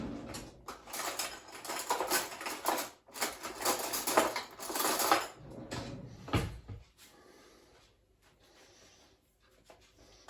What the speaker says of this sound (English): Let's dig a little spoon out and have a look.